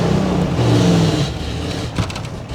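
A Ford Bullnose truck engine with the accelerator floored, giving a loud, close, unresponsive engine drone that drops in level partway through, with a brief clunk near the end.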